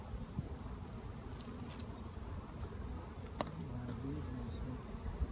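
Russian and Carniolan honeybees swarming around an open hive during an inspection, a continuous close buzzing drone with individual bees passing near, steady throughout with a few faint clicks.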